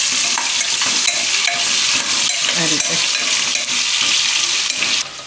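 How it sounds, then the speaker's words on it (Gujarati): Ginger, chili and garlic cook in hot oil with a constant close sizzle, while stirring adds scraping and clinking against the pan; a voice speaks briefly. "તેલમાં થોડીક વાર આને પકાવી લેવું આપણે, એટલે એનું ફ્લેવર એકદમ સરસ આવે"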